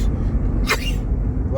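A single sharp sneeze bursts out inside a car during a drive through Maine, brief and loud over the steady low rumble of the engine and road.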